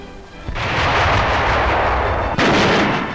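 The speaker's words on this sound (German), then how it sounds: "Scharfschießen mit der Panzerbüchse" A German anti-tank rifle (Panzerbüchse) fires during live-fire training in 1943, two loud sharp reports about two seconds apart, each followed by a sustained roar.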